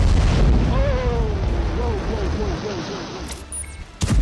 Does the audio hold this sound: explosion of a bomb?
yes